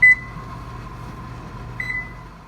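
A microwave-style oven used to bake bread pizza hums steadily with a faint fan drone, marked by a bright beep at the start and another tone near the end, close and alone without voices.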